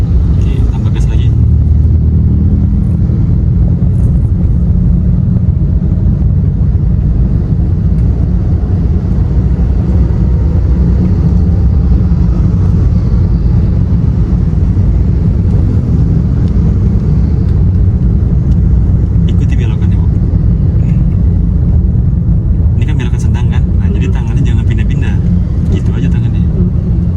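A manual car accelerates on a busy road with a loud, steady engine rumble and road noise throughout, while a driving instructor and a learner driver talk inside the cabin.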